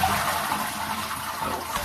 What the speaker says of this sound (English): we have a push button flush toilet, but the problem is it's become very slow to fill